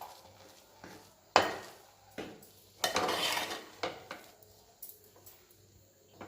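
Hot dough being mixed and kneaded by hand in a pot, heard as a string of knocks and scrapes of utensil against metal, with a couple of louder clattering bursts and quieter rubbing between them.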